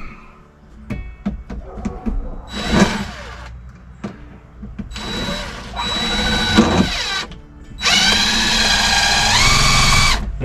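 A power drill drives a screw up into a ceiling stud while a utility closet ceiling is framed, in several short bursts and longer whining runs with pauses and clicks between them, close and loud.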